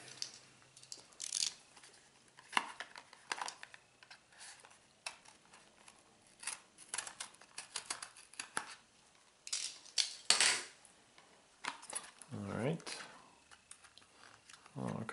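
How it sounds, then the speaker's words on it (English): Sharp intermittent scrapes, taps and rustles as an X-Acto knife slices open a cardboard box holding an Arduino Uno R3 controller, close and fairly quiet, with brief handling clatter between cuts. "I'll just grab an X-Acto knife. We'll cut the box open and then we'll see what's inside."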